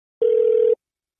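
A single steady telephone tone sounds for about half a second before a call, clean and loud, alone against silence.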